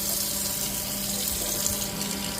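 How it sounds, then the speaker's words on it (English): Hot water runs steadily from a newly installed kitchen sink tap in a house under construction, a continuous close hiss and splash with no talking. "There's the hot water pressure."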